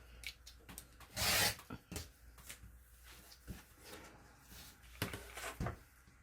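Paper being cut with a cutter for a junk journal, a few close scraping and sliding strokes with one louder rasping pass, then scattered soft clicks and rubs.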